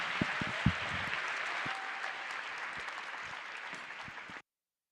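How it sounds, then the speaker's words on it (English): Audience applause for two event MCs at a medical Match Day ceremony, a steady wash of clapping from a crowd heard at moderate distance, a few sharper claps near the start, ending abruptly. "Applause for our fabulous MCs, Casper and Allison."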